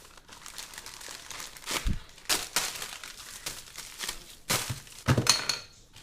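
A package from The Cubicle holding Rubik's-style speed cubes is torn open, with crinkling plastic and cardboard. Separate crumples and tearing bursts come close and moderately loud over a quiet background.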